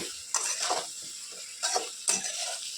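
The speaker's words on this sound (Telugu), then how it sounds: "అలాగే స్లోగా జాగ్రత్తగా మిక్స్ చేసుకోవాలి, లేదంటే వంకాయలు చాలా తొందరగా కుక్ అయిపోతాయి కదా" Brinjal pieces turned slowly and carefully with salt and turmeric in a frying pan, a few distinct scraping stirs over a soft continuous sizzle, close and unaccompanied by speech.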